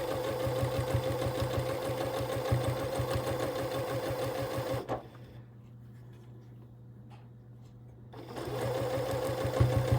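A sewing machine stitches a quilt block in loud, rapid bursts nearby, stopping for a few seconds of near quiet before starting up again, with no talking.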